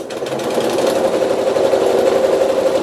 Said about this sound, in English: just center my foot over the edge of the fold and just stitch it right down